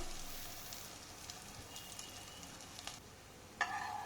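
Bread omelette toasting in butter in a hot pan, giving a soft, steady sizzle and crackle throughout with a sharper pop near the end, no voices.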